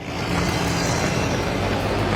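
A Toyota Fortuner overtakes on a road, a loud steady rush of engine and tire noise passing close by with continuous traffic rumble throughout.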